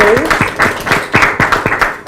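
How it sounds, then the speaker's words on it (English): Applause at a gender responsive budgeting training session, with a small group clapping in a loose, uneven rhythm, some individual claps distinct and close, and a brief voice heard at the very start. "We have a round of applause for our Department"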